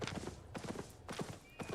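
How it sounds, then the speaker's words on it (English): A horse gallops in the video game Albion Online, with quick, rhythmic hoofbeat clip-clops close by and a short neigh mixed in, and no speech. "What I love about this horse is gallop speed."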